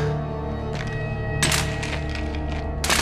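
Weapons hit the ground in the game Uncharted 2, two or three hard metallic thunks and clatters spaced about a second apart over a steady humming musical background, no voices.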